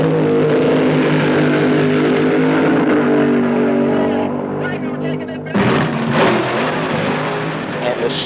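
Drag racing cars at a 1970s AHRA Winternationals event at Bee Line Dragway, loud engines roaring and revving with a sharp burst of acceleration midway, heard under someone talking.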